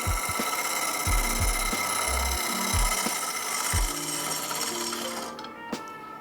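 A lathe tool squaring the face of a wooden bowl scrapes and chatters against the spinning wood, with repeated low knocks and rasping bursts, then the cutting noise fades near the end.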